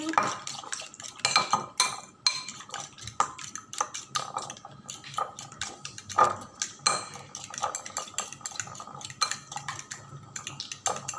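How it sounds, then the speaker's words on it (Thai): Eggs are beaten in a bowl with a utensil, giving quick irregular clinks and taps against the side, close and fairly quiet, in short bursts with brief pauses throughout. "แล้วก็ตีไข่"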